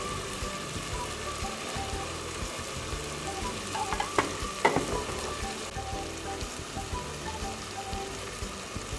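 Turmeric and red chili powder fry in a pan of oil for chicken kofta curry, giving a steady close sizzle with a brief burst of crackling and scraping midway.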